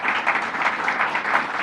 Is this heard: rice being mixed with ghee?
no